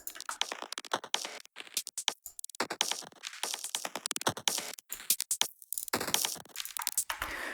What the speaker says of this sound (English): this IDM kit in the drums group